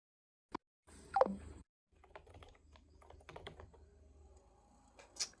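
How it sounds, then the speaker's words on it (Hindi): Fast typing on a computer keyboard: a dense run of quick, light key clicks that fills most of the clip after a brief opening noise and a short pause, close up with no talking. "टाइपिंग फास्ट है मेरी"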